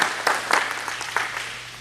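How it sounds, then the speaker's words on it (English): An audience at a breakfast meeting claps together, a steady dense patter of applause that stays moderately loud throughout, with no voices over it. "So let's give ourselves a round of applause."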